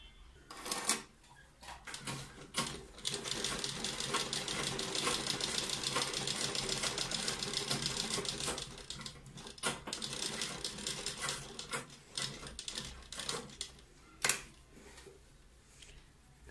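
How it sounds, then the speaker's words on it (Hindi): A sewing machine stitches fabric piping in long, even mechanical runs broken by short pauses and clicks, close and alone with no talk. "अब हम इसे यहाँ पे रखकर सिलना शुरू करते हैं।"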